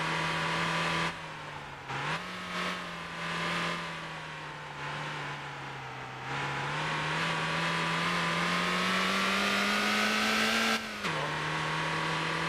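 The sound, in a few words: car driving on bumpy dirt road in Motor Town video game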